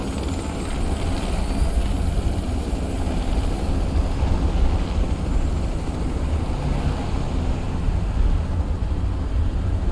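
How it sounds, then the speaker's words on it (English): A helicopter in the video game Watch Dogs 2 drones steadily overhead, a dense low rotor-and-engine roar holding at a constant loud level for the whole stretch, with no voices. "I do believe that is a helicopter."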